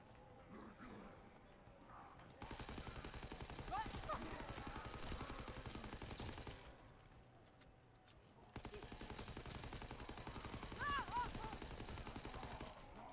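Rapid gunfire in Call of Duty WWII Zombies, dense repeated shots in two long bursts separated by a quieter gap, fairly steady and continuous with game ambience underneath.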